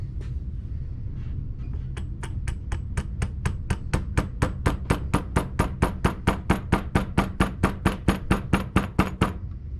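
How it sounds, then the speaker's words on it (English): A small fret hammer taps steadily on a guitar neck during tuner and neck rework, some thirty close, sharp knocks in an even rhythm that grow slightly louder and quicker toward the end. "Fret hammer."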